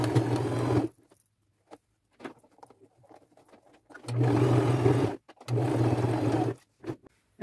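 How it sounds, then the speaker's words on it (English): Sewing machine stitching across a flap on a fringe bag, running in three steady mechanical bursts of about a second each, close and clear, separated by quiet pauses with small handling noises. "I'll sew right across that flap so that it's sewn to the back of the bag"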